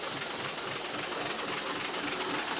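An old truck with an aging exhaust roars continuously while climbing a steep hill, a dense, sustained engine drone with no one talking.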